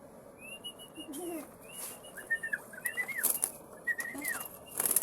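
Pigeons flap their wings loudly in repeated bursts as they take off and fly close by, with scattered coos and chirps between the wingbeats and no talking.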